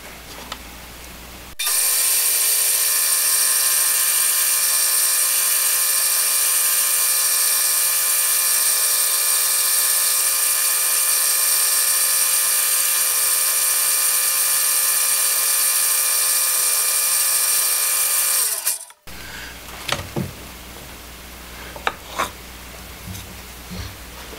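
A router bit machines a block of melted blue barrel plastic, producing a loud, steady high-pitched whine that holds for about seventeen seconds and then cuts off, followed by a few faint handling clicks.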